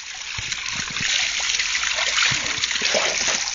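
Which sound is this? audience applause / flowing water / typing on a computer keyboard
flowing water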